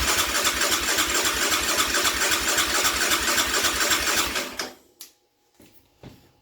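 A 2020 Yamaha Raptor 700 ATV engine cranking over, a loud, rapid, steady mechanical churn close by for about four seconds before cutting off, followed by a few faint clicks and knocks.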